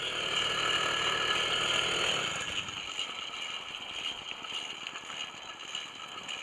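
An 80cc motorized bicycle engine running, a close steady mechanical buzz with rattling gear noise that softens slightly partway through.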